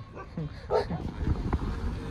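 Dogs near a snowy mountain road by the Indo-China border at Bum La Pass give short barks and whimpering yips, close and intermittent, mixed with someone talking.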